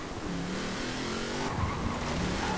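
A 1945 Willys MB Jeep tuned to around 1300 horsepower revs hard in Forza Horizon 4, its engine note droning and climbing, with a brief tire squeal near the end.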